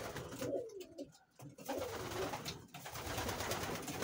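Pigeons coo in soft, low repeated calls close by in a loft, with rustling and faint background noise around them.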